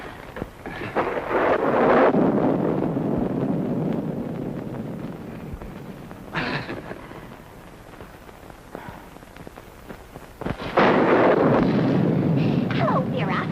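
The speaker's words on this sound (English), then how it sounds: "I just couldn't let Georgie come out in this storm alone." A 1940s film storm: wind and rain roar loudly and steadily, swelling and easing, with a sharp crack or two, while people talk over it at times.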